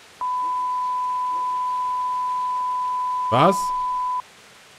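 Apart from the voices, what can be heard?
beep in video game Kingdom Come: Deliverance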